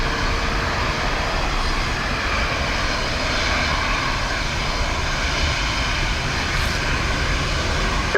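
A loud, continuous roar of aircraft engines at Dublin Airport on a windy, wet day, a steady broadband rumble that holds throughout without pause.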